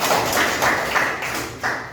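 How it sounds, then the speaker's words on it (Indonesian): A classroom of students claps together during an ice-breaking activity, giving a steady run of rhythmic hand claps in loud bursts with a few heavier accents. "Oke, tepuk tangannya."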